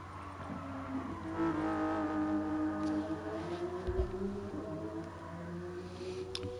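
A car engine drones steadily through a lap of the Nürburgring in the Gran Turismo Sport racing game, its rising and falling harmonic whine sustained for several seconds with a brief low thump midway.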